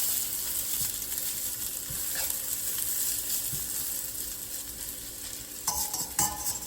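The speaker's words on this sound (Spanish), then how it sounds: "ya el aceite está caliente, vamos a echar los noodles" Noodles frying in hot oil in a pan while making chow mein, a steady close sizzle with occasional stirring clatter and utensil taps, no talking.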